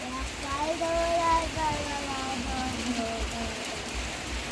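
Steady rain falls over a rice seedling field throughout, a constant soft hiss with a faint voice and tonal sounds drifting underneath.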